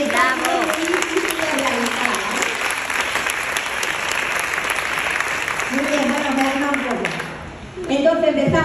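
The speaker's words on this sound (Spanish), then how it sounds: "os pido que le demos un aplauso a Julia Basileva y a todo su equipo" Sustained applause from a large trade-show audience for a micropigmentation team at PMU Worlds Barcelona 2022, steady dense clapping with a presenter's amplified voice speaking over it in places, fading near the end before a brief renewed burst.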